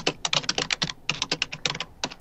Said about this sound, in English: Keep your typing down.